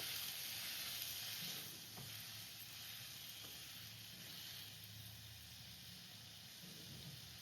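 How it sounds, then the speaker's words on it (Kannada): Tomatoes fry in a pan with a steady, dense hiss of sizzling oil that runs the whole time, faint and even, with no talking. "ಟೊಮೊಟೊ ಚೆನ್ನಾಗಿ ಫ್ರೈ ಮಾಡಿ ಉಟ್ಕೋಬೇಕು."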